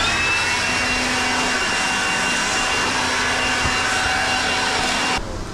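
An insulation blower machine runs with a steady loud roaring whir, carrying a faint wavering vibration tone throughout before cutting down near the end.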